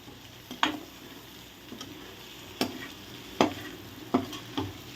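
Cooked, chopped blood is stirred and sautéed in hot oil, a soft continuous sizzle broken by several sharp spoon scrapes and clacks against the pan, close up with no talking.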